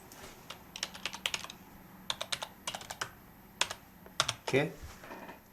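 Bursts of keystrokes on a computer keyboard as a certificate password is entered, irregular clusters of close, crisp clicks with short pauses between groups and no talking.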